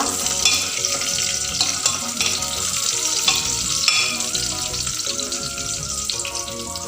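Raisins frying in a pan for pulao, a dense constant sizzle with steady stirring scrapes layered over it, close and loud with no talking.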